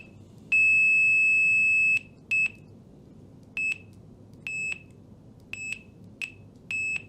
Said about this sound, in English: Even if you only lightly touch, you should still get a beep.